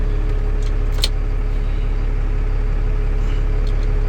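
A Ford F650 box truck engine idles steadily at close range, a continuous low rumble with a faint metallic clink partway through.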